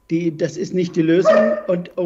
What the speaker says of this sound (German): das ist mein Hund, der bellt.